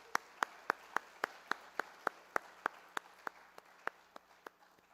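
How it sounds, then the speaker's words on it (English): Applause at a university research and scholarship day for poster presenters comes across as a steady run of about seventeen sharp, evenly spaced claps that fade slightly toward the end. "Let's give them a round of applause."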